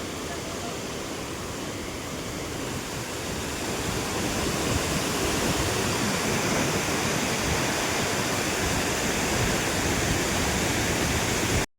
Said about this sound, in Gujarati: હવે ઓલા પણ આમ ધોધ, થોડું નાના ધોધ જેવું થઈ ગયું છે.